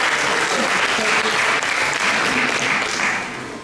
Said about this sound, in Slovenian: Hvala za tale lep aplavz.